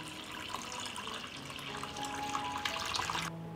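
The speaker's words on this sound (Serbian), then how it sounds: "Sipam vodu u šerpu do visine poklopca." Water runs and splashes steadily into a cooking pot lined with a cloth and filled with jars. The pour is continuous and moderately loud for several seconds, then cuts off sharply near the end.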